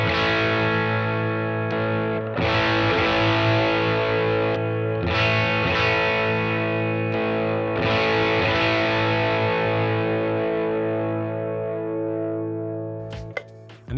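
Electric guitar run through a JHS Moonshine Tube Screamer boosting an already distorted amp, playing loud sustained mid-heavy chords with a few restrikes and ringing decay, ending with a brief click.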